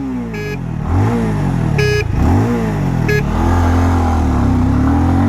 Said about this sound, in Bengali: Will start the acceleration test with 3 horns already on first gear.